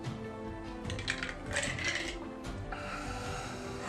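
Dice rolling and clattering across a tabletop, a burst of rattling, tumbling clicks that settles after a few seconds, fairly close and unaccompanied by talk.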